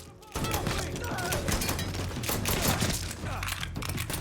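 In the video game Mafia III, a dense burst of gunfire erupts with overlapping rapid shots, thuds and impacts in a loud, continuous barrage, while voices are faintly heard beneath.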